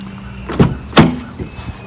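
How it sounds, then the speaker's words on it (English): Toyota Prius car door being handled, a hollow-sounding, loose door producing two close, solid thunks about a third of a second apart, followed by a softer knock and faint rattle. "The door sounds hollow."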